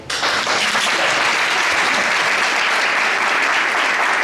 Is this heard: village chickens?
no